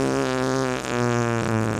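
A voice imitates a fart noise: a sustained, buzzy, pitched raspberry lasting nearly two seconds, loud and close, with a brief wobble midway and no other talk.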